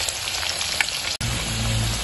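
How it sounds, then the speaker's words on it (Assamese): Potato pieces fry in hot oil with a bright, steady sizzle and crackle, close up, briefly interrupted by a short gap before the frying resumes with a lower bubbling hum. "মই ইয়াতে এতিয়া তেলতে আলুকেইটুকুৰা অলপ ৰঙাকৈ ফ্ৰাই কৰিম"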